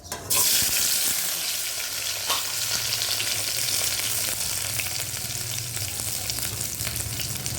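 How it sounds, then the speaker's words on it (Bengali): Okra frying in hot oil in a wok gives a loud, steady sizzle that runs throughout, with a few faint clinks of stirring. "দেখো এদিকে আবার কড়া বসিয়ে দিলাম ঢ্যাঁড়স ভাজা।"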